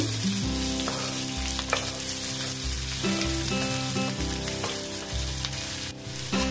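Sliced onions and green chillies, along with mustard seeds and cumin, fry in hot oil in a pan, making a dense, unbroken sizzle that stays close and loud throughout without any talking.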